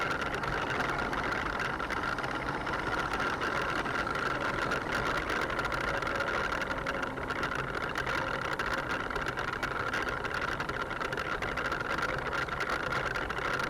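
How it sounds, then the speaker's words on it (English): Hard plastic tyres of a Hawkin's Bazaar Colossus toy RC monster truck spin on car park tarmac with no grip, giving a steady, continuous motor whine and rolling buzz that holds at an even level throughout. "the back wheels just spin. That's what's happening there."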